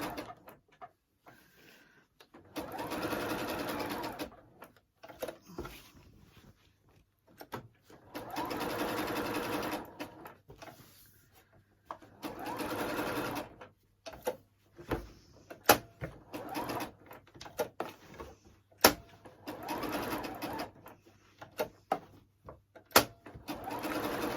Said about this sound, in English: if I wanted to keep tension on this piece of work whilst it's sewing